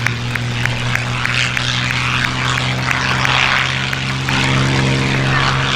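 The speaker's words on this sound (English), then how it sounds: "Another associated with this airfield rolling now in the form of the Mustang." A P-51 Mustang propeller fighter at Duxford airfield during a Battle of Britain air show, its piston engine droning steadily and loudly throughout with a constant buzzing roar and no talk.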